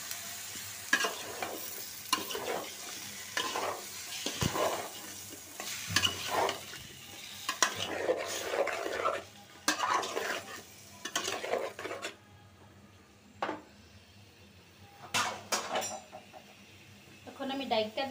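Potatoes and snake gourd fry in spice paste, stirred in bursts of scraping and clattering against the pan over a low sizzle, with brief quiet gaps and a voice faintly in the background.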